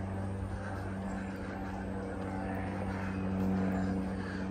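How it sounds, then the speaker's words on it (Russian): A helicopter flies over a river valley with thermal springs in Hungary, a steady droning rotor and engine hum that holds at a constant moderate level and swells slightly toward the end, with no voices. "Кстати, вертолет здесь летает, непонятно зачем."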